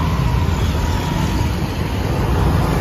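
A car driving over a road bridge, heard from inside as a steady loud engine drone and dense tyre and road rumble, with no voices.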